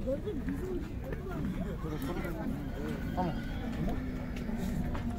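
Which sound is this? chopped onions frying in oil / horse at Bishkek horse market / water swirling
horse at Bishkek horse market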